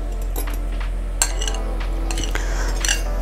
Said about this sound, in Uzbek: Endi buni kartoshkani suviga aralashtiramiz.